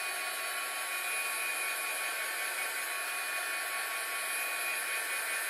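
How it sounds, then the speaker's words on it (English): A heat tool blows steadily to dry paint on a kids' Christmas craft, a constant loud whooshing hiss with no breaks, close up and alone. "The fast way to dry is just use your heat tool."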